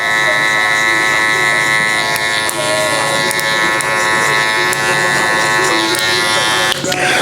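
An electric hair clipper buzzes steadily while cutting a child's hair, a loud close hum with a bright harmonic whine, occasional soft clicks, and someone talking over it.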